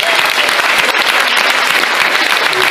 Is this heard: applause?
yes